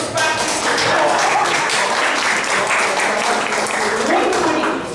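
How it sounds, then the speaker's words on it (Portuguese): Church congregation at a Portuguese-language service clapping for participants of a challenge, sustained loud applause with many overlapping hand claps, close and continuous from start to finish, partly mixed with voices. "Palmas aqui para os participantes"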